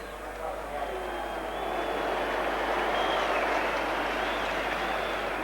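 A rugby league crowd at Lang Park stadium during the 1986 Australia versus New Zealand test, a steady wash of distant murmuring and cheering that swells slightly midway, with a broadcast commentator talking over it.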